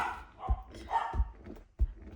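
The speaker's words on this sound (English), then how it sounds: "my dog is barking because she wants to go outside" A dog barks three times in short single woofs spaced about two-thirds of a second apart, fairly close and clear, wanting to be let outside.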